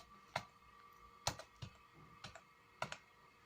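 Keys clacking on a computer keyboard, about six separate crisp taps in an uneven rhythm, close up and quiet against a faint background hum.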